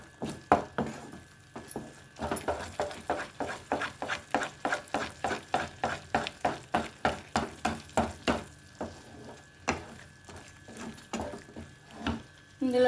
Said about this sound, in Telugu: మొత్తం పట్టేలాగా కలపాలి.